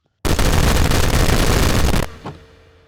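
A sustained burst of rapid automatic gunfire blasts in modded Minecraft for nearly two seconds, loud and continuous, then cuts off into a short fading tail and a faint thump.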